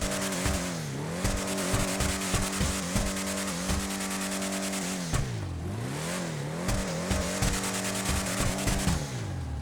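An off-road car in GTA 5 Online revs hard and repeatedly, its engine pitch climbing and dropping between gear shifts, loud and continuous with brief tire squeals and no voices.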